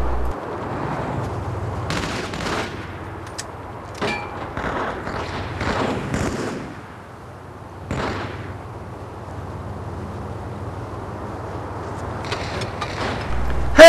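War video game gunfire, scattered shots and thuds popping out of a low rumbling battle background at uneven intervals, mid-distance and moderately loud, with no speech over it.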